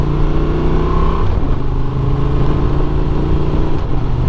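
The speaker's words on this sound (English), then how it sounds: "There's some shifts." A 2024 Honda Transalp 750 adventure motorcycle under way, its engine droning loudly and steadily with a brief drop in pitch as it shifts gears, then pulling on again over road and wind noise.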